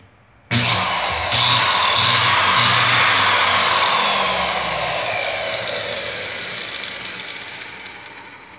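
Marble saw angle cutter with a repaired trigger switching on abruptly and whining loudly at full speed, the high-pitched motor drone then easing slightly over several seconds, with no voices.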